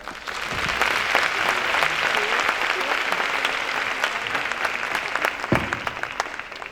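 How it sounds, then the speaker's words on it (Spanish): Applause from a nutrition congress audience welcomes a speaker, a loud, full room of clapping with sharp individual claps standing out that holds steady for several seconds before easing off. "Recibámosla con un fuerte aplauso."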